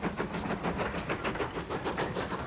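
Goods train rolling along rails, a steady rhythmic clatter of wheels over track joints with a constant mechanical rumble and hiss, heard close and continuous.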